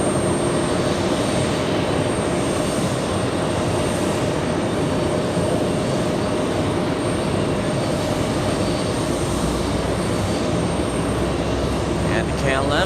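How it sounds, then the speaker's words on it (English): An Airbus A320 arriving at JFK Airport on a flight from West Palm Beach, Florida, gives a steady, loud jet roar with a broad rushing hiss that holds for the whole stretch, with no clear rise or fade. "We have A320 coming in."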